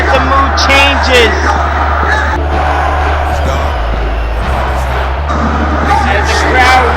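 A wrestling event crowd cheering and murmuring, a loud, steady roar of babble with scattered whoops and rising swells, under an announcer's voice.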